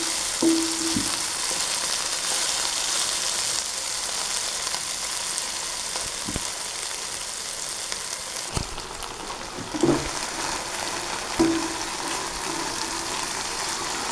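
Masala okra fries in a pan with a steady, dense sizzle that runs throughout, broken by a few soft clicks as the pieces are turned; no one speaks.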